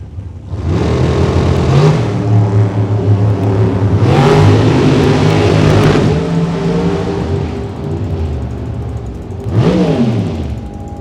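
Drag racing cars accelerate hard at Sonoma, engines roaring loud and close through rising gear changes, with several distinct revving surges and upshifts one after another, no voices.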